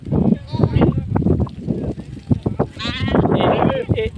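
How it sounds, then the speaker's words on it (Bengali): A large flock of sheep bleats close by, with overlapping calls rising and falling throughout, mixed with a person talking. "বিশাল ভেড়ার পাল।"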